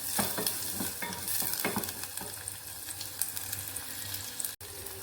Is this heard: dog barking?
no